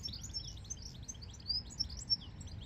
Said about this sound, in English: The birds are being quite noisy right now.